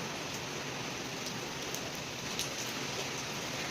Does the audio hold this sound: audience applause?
no